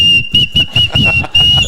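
A shrill whistle is blown close up in a rapid series of about six short, loud pulses, sharp and piercing with no talking.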